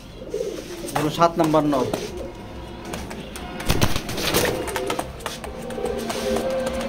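Racing pigeons coo in a loft, a black checker male among them, with repeated low throaty calls and some wing flutter beneath someone talking close by.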